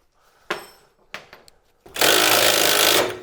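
A power tool works a suspension bolt on a 1993 Mazda MX-5: three short, sharp bursts come first, then a loud, sustained whirring rattle runs close to the end.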